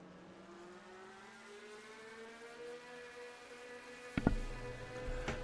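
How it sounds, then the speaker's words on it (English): Race car engines in a stock car racing game at Talladega fire up: a rising whine builds slowly, then a sharp burst as engines catch and rumble, under crowd and ambient noise. "Drivers, start your engines!"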